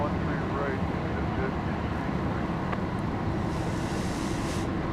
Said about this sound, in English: here comes the flight now from Denver